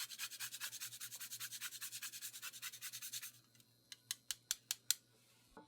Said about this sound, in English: So we'll grate some nutmeg in there as well.